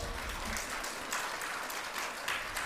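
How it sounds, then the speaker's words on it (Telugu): A church congregation claps loudly together for God, a dense, steady wash of applause from many hands that fills the whole short moment without any voices over it. "ఒకసారి గట్టిగా చప్పట్లు దేవునికి కొట్టండి."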